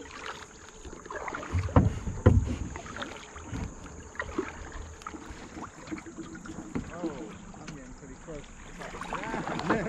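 Kayak paddling on the North Raccoon River, with paddle strokes and water splashes close by, stronger early on, under wind noise and intermittent talk between paddlers.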